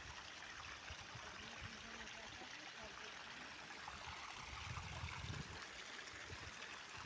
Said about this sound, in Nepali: यहाँ नि अब यता गरामा पानी लगाउँदैछु